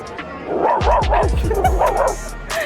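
A person imitates a dog with a run of about six loud, rhythmic woofs and yips in quick succession, voiced up close and alone with no other talk.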